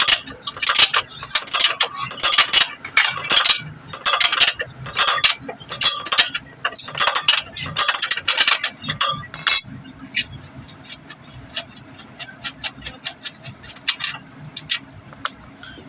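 A ratchet clicks in rapid bursts while loosening a nut on a Hyundai Sonata suspension, close and sharp, followed by quieter, sparser clicks and metallic handling.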